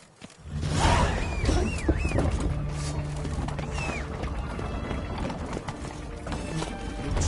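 Roach, the horse in The Witcher video game, clip-clops steadily with hollow hoof beats at a walking pace, close by, with a brief whinny and faint background game sounds.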